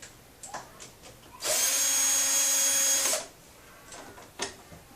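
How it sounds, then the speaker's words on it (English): A cordless drill drives a Torx screw in one steady, loud whir of about two seconds, starting and stopping abruptly, with quieter handling noises before and after. "Use the ordinary cordless for this."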